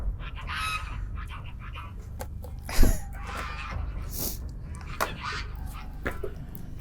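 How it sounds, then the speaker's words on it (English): Several geese honk loudly and agitatedly in an outdoor village setting, with a sharp burst of calls near the middle and more scattered honks throughout, mixed with occasional speech. "now the geese are getting mad"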